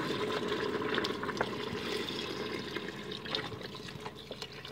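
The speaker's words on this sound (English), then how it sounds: "I'm just going to stir it a little bit and then start adding the broth." Low-salt broth is poured into a pot of Armenian rice pilaf with a soft, continuous splashing and gurgling trickle, close and fairly quiet, and scattered small drips sound over the flow.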